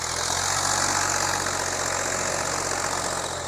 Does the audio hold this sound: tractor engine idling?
yes